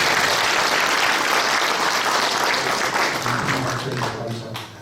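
A church assembly audience at the opening service of a Korean lay Christian organisations' general meeting claps in steady, dense applause that fills the room, then thins and fades toward the end.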